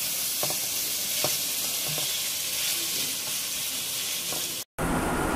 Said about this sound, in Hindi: चिकन को भी हमें प्याज के साथ अच्छी तरह से भूनना है।